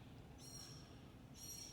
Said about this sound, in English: It's just a bird. Sounds so strange.